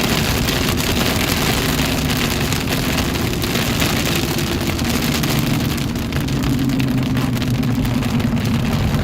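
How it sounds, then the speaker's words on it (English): Heavy rain pouring down during a severe storm in North Texas, a loud, dense, continuous hiss with a low rumble underneath, steady throughout. "a lot of rain coming down in a short amount of time."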